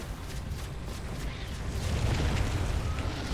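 A Terran starport exploding in StarCraft, a dense rumbling blast that swells and holds steady amid ongoing battle noise.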